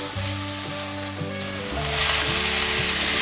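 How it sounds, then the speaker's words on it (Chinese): Bamboo shoots and pickled mustard greens are stir-fried in a wok, loud close sizzling with a brief hum of the burner or hood underneath, swelling louder toward the end, with no talk. "快速的翻炒"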